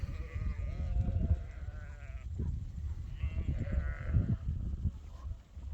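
Sheep and lambs bleat repeatedly across the field as they move onto fresh feed, the calls overlapping at moderate distance.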